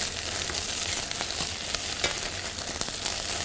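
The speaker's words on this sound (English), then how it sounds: "Just allow that tomato paste to cook out a few minutes" Tomato paste fries in oil in a pan for a prawn bisque, giving a steady, close sizzle with scattered small crackles and pops throughout, with no voices.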